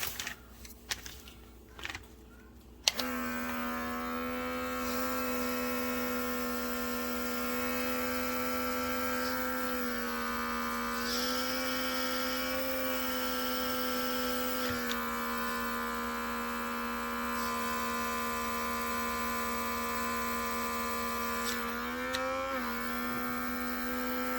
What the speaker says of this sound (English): let's get them vacuum sealed up now and get them in the water